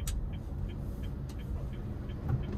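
Low, steady engine rumble from a 2020 Honda Brio car as it shifts into second gear while driving slowly, heard from inside the cabin with faint clicks and no talking.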